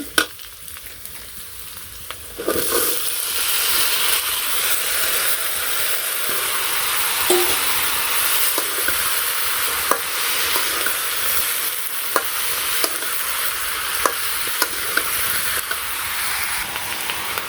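Fried potato and taro pieces crackle in a village kitchen pan as vegetables are tipped in, a sudden burst of loud sizzling followed by steady frying with recurring scrapes and clicks of stirring.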